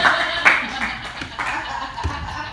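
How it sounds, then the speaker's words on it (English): Podcast audience clapping for a performer named Jazz, a moderate patter of hands with scattered louder claps, mixed with chatter and some laughter. "Give us a round of applause."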